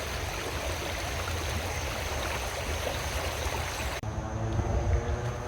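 Creek water flows steadily in a broad, continuous rush at close range, with no voices, after a tornado at Dinosaur Lake; a slight shift in tone comes near the end.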